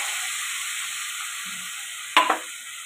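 Onion and tomato paste hits hot oil seasoned with black cumin, a steady bright sizzle, a low thud, then a sharp burst of splattering near the end.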